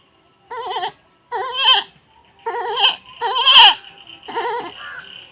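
A human voice imitates a baby goat bleating, giving five short, quavering kid cries in a row, close and loud with brief pauses between them.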